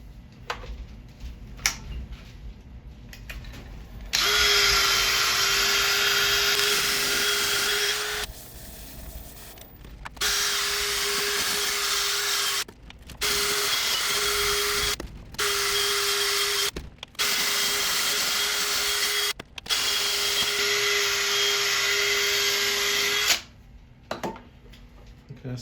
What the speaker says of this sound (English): I'll do the centre bit with the lathe spinning